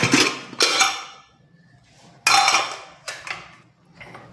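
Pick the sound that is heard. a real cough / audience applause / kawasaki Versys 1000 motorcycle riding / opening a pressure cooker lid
opening a pressure cooker lid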